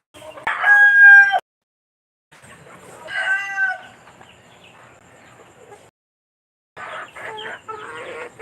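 A rooster crows loudly up close, three separate calls with short pauses between them.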